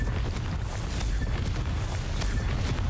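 A Confringo fire spell from a Harry Potter video game goes off as a dense, continuous rumbling blast with crackling bursts, loud and sustained throughout, with no voices.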